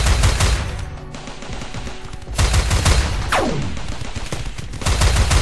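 Colonists' weapons firing in the video game RimWorld: rapid, overlapping bursts of gunfire form a near-continuous fusillade, with a falling whistle-like sweep partway through.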